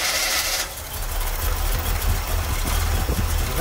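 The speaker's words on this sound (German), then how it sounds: "Lukas, du kannst mal das Auto starten" A Corvette C3 engine turns over and catches, then settles into a loud, steady idle with a rough low rumble close by.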